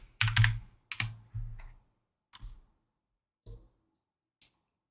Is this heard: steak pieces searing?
no